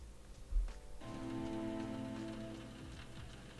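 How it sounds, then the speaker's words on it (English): Rain falling inside a restaurant in an AI-generated film scene, a faint steady patter of drops with a low tonal hum underneath and one soft thump near the start. "it's clearly raining inside of that restaurant"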